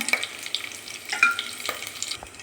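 Curry leaves and two green chillies hit hot oil in a pan on the stove, giving a crackling sizzle with a few sharp pops and bursts of spitting, close and unaccompanied.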